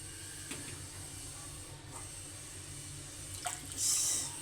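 Thin shing fish and potato broth simmering in a pot, a steady low bubbling hiss with faint drips, building to a louder burst of steam near the end.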